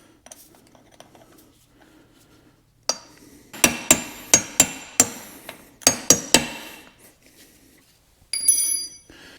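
Hammer striking a punch to drive a pin out of a T5 transmission shifter assembly, about ten sharp metallic blows in an uneven rhythm, close and loud, with a brief rattle at the end.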